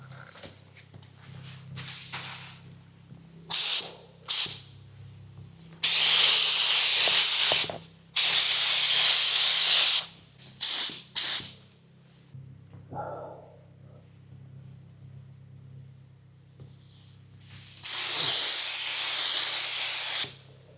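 A spray gun paints a car side repair in repeated loud hissing bursts of a few seconds each, separated by quiet pauses with a low hum underneath.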